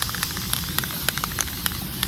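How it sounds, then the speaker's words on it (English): Black spray paint hisses from an aerosol can onto a finial for a cemetery fence: a steady broadband spray close by, with faint regular ticks about every quarter second. "Just going to spray paint and"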